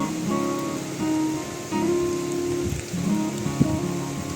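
Heavy rain pours down in a field near a village, a dense, even wash of drops drumming on surfaces, close and continuous with no voices.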